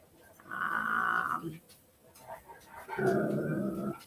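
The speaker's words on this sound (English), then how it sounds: "My dog. He's probably going to make a little bit of noise." A dog that has just woken up makes two short bursts of low grumbling, whining noise, faint and close by in a quiet room.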